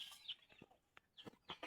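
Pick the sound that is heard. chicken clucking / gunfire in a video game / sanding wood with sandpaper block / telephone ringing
chicken clucking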